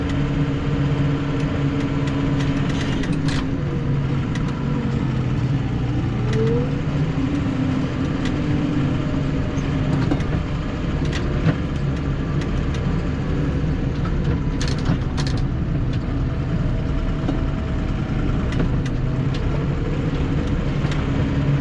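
A tractor engine rumbles steadily at close range as it pushes a pile of straw to the back of a shed, a continuous low drone with occasional knocks and scrapes and no talking.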